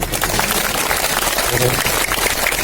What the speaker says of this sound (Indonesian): Tepuk tangan dong untuk kita semua.